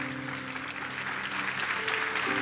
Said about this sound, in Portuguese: Você pode aplaudir ao Senhor de pé?